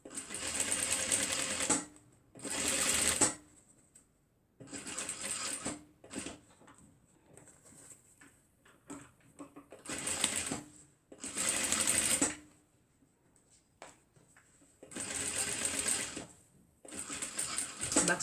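A sewing machine stitches a fabric face mask in loud, close whirring bursts a few seconds long, separated by quieter pauses with small handling clicks and occasional soft talk.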